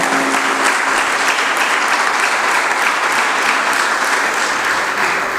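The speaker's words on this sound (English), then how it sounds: "These young amateur filmmakers from FRIDU deserve a huge round of applause for their excellent efforts in making." A plenary session audience gives a steady, loud round of applause for young amateur filmmakers, the dense clapping sustained without pause and with no voices heard.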